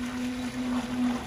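A small electric motor of an RC fishing bait boat hums steadily with a constant pitched whine, close by, with faint water-like wash around it.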